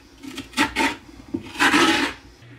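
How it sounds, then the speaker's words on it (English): Carving tool scraping the thick front wall of a pumpkin, a few close raspy strokes, two short scrapes followed by a longer grinding rub, with no voices. "you want to really work on just carving as much off that front wall as possible"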